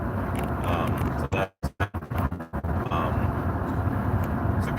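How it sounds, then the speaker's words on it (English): Steady road rumble and engine drone fill the cab of an old pickup truck on the move, with a brief break where a voice speaks a few words over it. "There's probably some driving noise because I'm in my wife's old truck."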